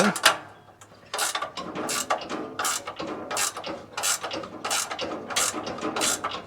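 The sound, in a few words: ratchet tightening a nut on a lumber mill motor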